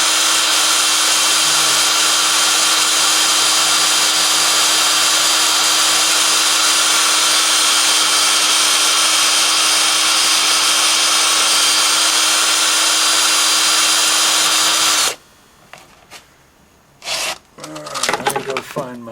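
An engine cylinder hone spins in a drill with a steady, loud whir and a constant tone, running nonstop for about fifteen seconds before cutting off, followed by quieter handling noises.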